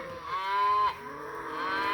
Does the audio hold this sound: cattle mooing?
yes